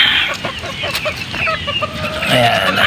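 Straight-bred Sweater Boston pullets, born in October and November, give scattered short clucks close by, with fowl calling on and off over a steady barnyard background.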